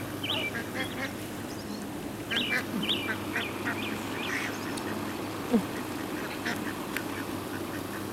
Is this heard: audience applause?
no